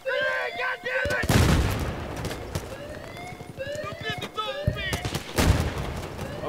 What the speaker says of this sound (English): Lobbing grenades at it all day.